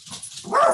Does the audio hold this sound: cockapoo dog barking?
yes